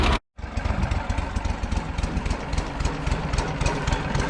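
The Kohler engine on a Wood-Mizer sawmill runs poorly, a close, steady mid-pitched engine chug with uneven, knocking pulses throughout after a brief cut at the start.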